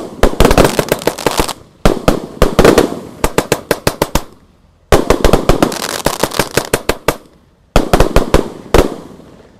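A 49-shot fan-shaped Roman candle fireworks cake fires at night in rapid bursts of sharp cracking pops, three loud volleys separated by brief pauses, close and with no talking.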